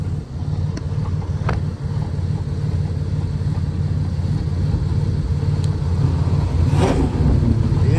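A Fox body Ford Mustang revs as it passes by outdoors, a low engine rumble swelling into a rising rev with wind buffeting the microphone, no talking.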